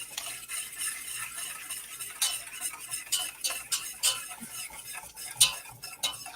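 Hot sauce being whisked in a pan just pulled off the heat, a quick run of light metallic scraping strokes with uneven rhythm, close and moderately loud, no talk.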